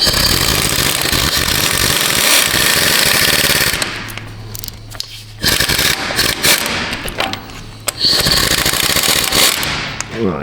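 An impact wrench rattles in loud, rapid hammering bursts while tightening the front hub on a Ford F250, with short pauses between bursts and a low motor hum beneath.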